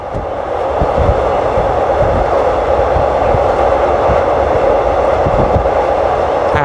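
A passenger train running from central Bangkok toward Don Mueang eases into a curve with a loud, steady rolling rumble and regular wheel thumps over the rail joints, close and continuous.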